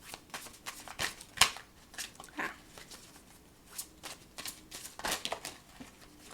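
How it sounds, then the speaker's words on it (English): A deck of tarot cards is shuffled up close in quick, papery riffles and slaps that come in uneven bursts, with brief pauses between them. "Hold on, let me just get some more cards."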